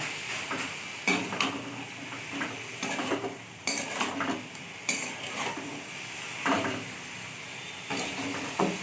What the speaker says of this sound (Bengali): ইলিশ মাছের মাথাটা দিয়ে এবার এর সাথে ভালো করে মিশিয়ে নেব